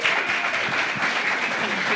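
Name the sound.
applause for panelists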